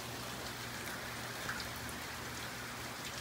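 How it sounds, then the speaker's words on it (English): Heavy rain pouring down in a thunderstorm, a continuous dense wash of drops on surfaces, steady and fairly loud from start to finish with no voices. "Here comes the heavy rain."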